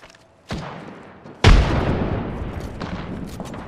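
Gunfire in Apex Legends, two sharp separate shots, the second louder and followed by a long booming decay, with fainter echoing reports trailing after.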